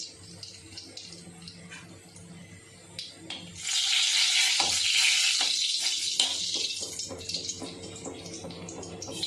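A sudden burst of hissing sizzle as spices hit a little hot oil, close and bright, crackling steadily after a few quieter clinks.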